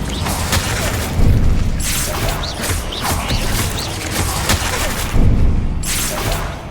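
The Incendio fire spell cast in Hogwarts Legacy during combat, loud whooshing fiery bursts with booming swells near the start and again toward the end over continuous battle noise.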